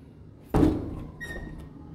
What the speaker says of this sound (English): I kicked the door